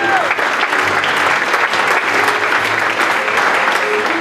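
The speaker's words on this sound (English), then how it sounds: "Round of applause for JC the Pain-Proof Girl." Loud, continuous audience applause at a cabaret show greeting a performer billed as the Pain-Proof Girl, dense clapping throughout with crowd noise and faint voices mixed in.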